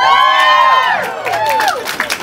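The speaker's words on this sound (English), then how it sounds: "I figured y'all were going to clap, so I was pausing." An audience at a real estate office grand opening cheers loudly, with rising whoops and shouts at first, then scattered clapping toward the end.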